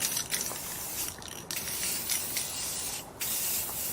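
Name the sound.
spray paint can spraying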